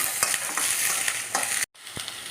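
Country tomatoes fry in a pan for boti gojju: a dense, loud sizzle with stirring scrapes and clicks, close up, broken by a brief silent cut before the sizzle resumes. No one speaks.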